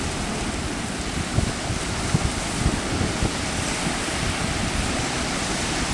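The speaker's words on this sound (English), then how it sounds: "And the waves aren't strong." Gentle ocean waves wash in at Lanikai Beach on Oahu, a loud, steady surf roar mixed with wind buffeting the microphone and no speech.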